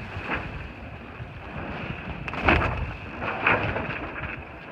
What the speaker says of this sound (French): Il y a du vent, il se met à pleuvoir